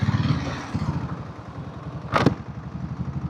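A diesel Royal Enfield Bullet motorcycle chugs along a road from Adambakkam toward the airport, its close, rhythmic low thumping steady throughout, with a brief sharp burst of another passing noise midway.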